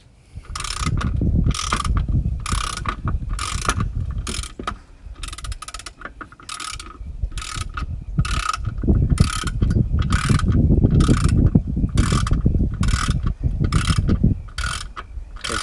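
A socket driver ratcheting bolts on a Mercruiser Alpha 1 lower unit: rapid repeated ratchet clicking in bursts of a second or so, with breezy outdoor rumble underneath, close and loud throughout.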